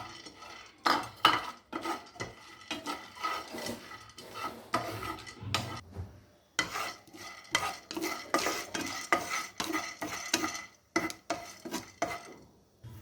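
Chana dal roasting in a pan for chintaku podi, with a spoon repeatedly clattering and scraping against the metal in quick bursts over a light sizzle, close and loud, with brief quiet gaps between stirs.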